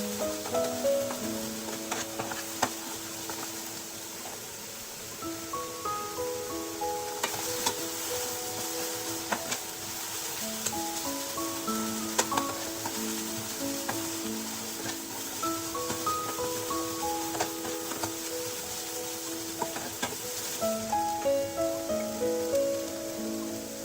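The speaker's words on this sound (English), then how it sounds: "Mix it well and saute it for another 2 minutes." Chopped vegetables and corn sauté in a pan on a tava-style stovetop, a soft continuous sizzle with occasional stirring scrapes, low and steady beneath background music that runs throughout.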